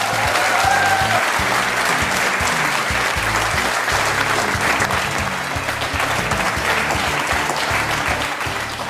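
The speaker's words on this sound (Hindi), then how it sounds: "और आपकी तालियां बजते रहें आपके इस प्रोग्राम में।" Studio audience applause for a guest on an Indian television courtroom-style talk show, loud and sustained clapping from a large crowd with a few whistles early on.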